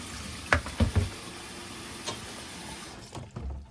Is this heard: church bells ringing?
no